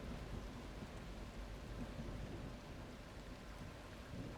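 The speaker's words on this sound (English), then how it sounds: "And the storm started again." Steady heavy rain and rolling thunder from a storm in The Last Caretaker video game, a dense continuous roar with low rumbles at the dock, with no voices over it.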